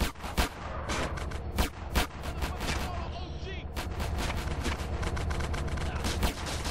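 Gunfire in GTA San Andreas crackles in sharp, loud bursts, single shots and rapid volleys spread across the clip amid game noise.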